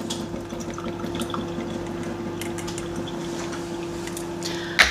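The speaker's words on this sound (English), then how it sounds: "Just going to drain off sweet corn." Liquid draining steadily from an opened can of sweet corn, a continuous soft watery trickle and gurgle close by, ending with a brief louder knock.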